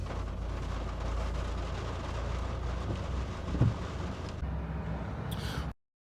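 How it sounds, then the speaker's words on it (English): Steady rain pours down in a dense, continuous hiss on a dreary morning, with a brief thump partway through and no voices, cutting off abruptly near the end. "there's the rain again"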